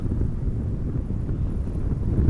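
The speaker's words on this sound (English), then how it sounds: "the wind is blowing nearly perpendicularly to the runway heading" Wind at Amsterdam Schiphol Airport buffets the microphone in a steady low rumble, constant and fairly loud with no distinct events.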